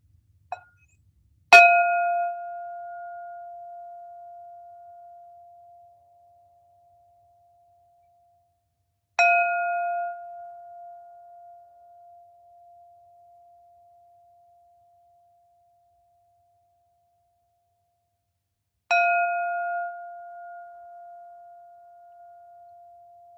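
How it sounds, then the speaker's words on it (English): Three bell strikes spaced about eight seconds apart, a third mindfulness bell in a meditation session, each a clear ringing tone with a long, slowly fading sustain, heard alone against silence. "third bell."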